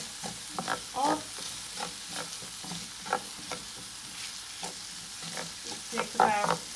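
Ginger and garlic frying in oil over a medium flame for shakshouka, a soft steady sizzle with intermittent stirring scrapes, close but fairly quiet.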